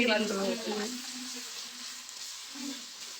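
Green chillies frying in oil in a pan for tomato rice, a faint steady sizzle that trails off after a brief voice at the start.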